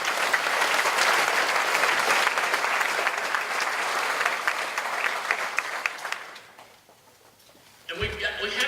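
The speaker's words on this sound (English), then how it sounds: "let's give him a round of applause." A crowd at a political campaign announcement gives a long, full round of applause that thins out and fades to near quiet, before a voice resumes speaking.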